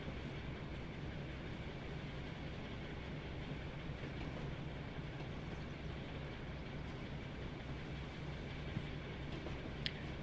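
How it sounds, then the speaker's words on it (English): Heritage train on the West Somerset Railway rolling past semaphore signals during a Western gala, a steady low rumble of wheels and carriage noise, faint and continuous, with a couple of small clicks near the end. "I always feel bad rolling past horizontal semaphores because we don't use distance signals on our railway."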